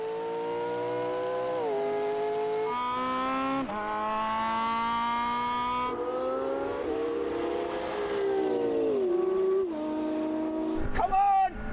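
Engines of a McLaren P1, Porsche 918 and LaFerrari hypercars in a drag race rise steadily in pitch through the gears, loud and sustained with shifts, ending in a burst near the close.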